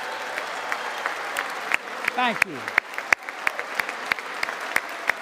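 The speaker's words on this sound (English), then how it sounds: "they've applauded and stood up like 3 times already" An audience at the State of the Union address applauds, a dense wash of clapping that swells briefly while a voice speaks over it near the start.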